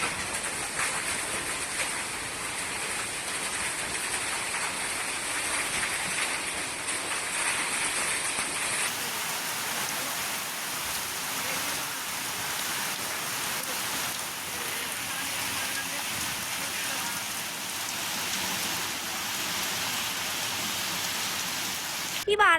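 Heavy rain pours down during a Hyderabad storm, a dense, continuous wash of drops that stays loud and steady throughout, with a faint rumble beneath.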